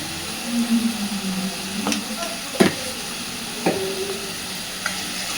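Spices for a fish curry are stirred in a pan, with a soft steady sizzle and a few sharp scraping clicks of the spoon. No voice is heard.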